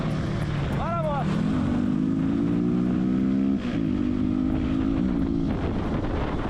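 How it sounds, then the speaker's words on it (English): A 700cc motorcycle revs and pulls away during a favela chase, its engine note climbing and holding in loud harmonic bands under wind noise and shouted talk, then briefly dropping and rising again. "This guy's riding a 700cc."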